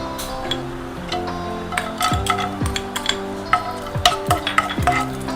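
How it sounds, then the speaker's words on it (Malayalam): Nuts and raisins fry in hot ghee, giving a steady close sizzle with scattered crackles and clinks of a spoon against the pan, and no voices. "ഇതിലോട്ട് കുറച്ച് നട്ട്സും കിസ്മിസും നമുക്ക് ആദ്യം തന്നെ ഒന്ന് ഫ്രൈ ചെയ്തെടുക്കാം"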